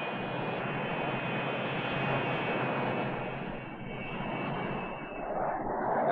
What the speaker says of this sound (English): The bombers can be accelerated into the air from a standing start at the rate of one every 15 seconds using the ship's four catapults